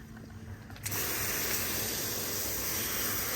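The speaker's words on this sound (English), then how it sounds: "let's give it a good spray here." A trigger sprayer applies wheel and tire cleaner onto a car wheel and tire, starting with a soft mechanical click and then a loud, continuous close-up hiss of spray that holds steady to the end.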